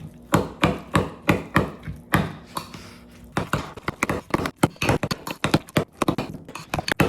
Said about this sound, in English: Now we're going to mix it up.